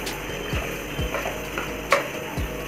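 Cabbage and capsicum stir-fried in a pan for chicken fried rice: a steady low sizzle broken by regular scraping strokes about every half second, with one sharper clack of a utensil.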